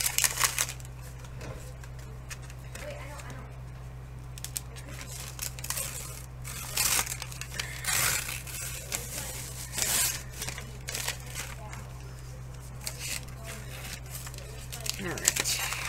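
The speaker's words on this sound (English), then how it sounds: "we're going to remove that paper" Paper backing is peeled away from a laminated paper die cut, making soft crackling, tearing and crinkling sounds in short irregular bursts over a steady low electrical hum, close to the microphone.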